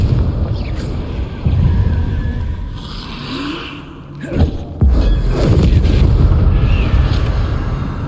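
Spell explosions in the video game Hogwarts Legacy, fought against Inferi: several booming bursts and crackling blasts over a rumbling low bed, with a sharp impact near the middle.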